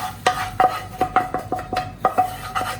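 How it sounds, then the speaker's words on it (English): Tomatoes going into a pot of dal makhani, with repeated sharp clinks and scrapes of a utensil against the metal pot in an uneven rhythm, close and fairly loud, no talking. "Now we add tomatoes in this dal."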